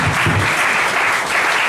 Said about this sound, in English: keep that laughter going. Keep that clapping going.